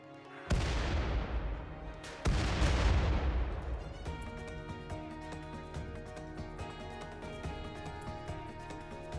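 Auto mortars fire in the Rimworld colony game, two heavy booming shots a couple of seconds apart, each decaying into a long rumbling tail beneath steady background music.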